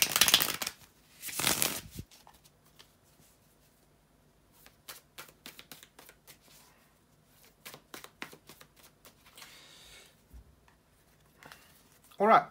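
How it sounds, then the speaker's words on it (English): Tarot cards being shuffled in bursts of crisp riffling and flicking, close by, with quiet pauses between and a soft rustle near the end. "bear with me for a couple of seconds here to shuffle the tarot cards"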